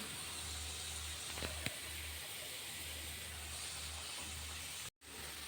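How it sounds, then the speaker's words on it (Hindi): Sattu-stuffed litti deep frying in oil over a medium flame, a steady close hiss with a faint low hum beneath and a brief dropout near the end. "इसको भी हम लोग मीडियम फ्लेम पर डीप फ्राई कर लेते हैं।"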